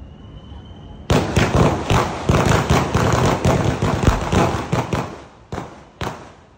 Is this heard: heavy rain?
no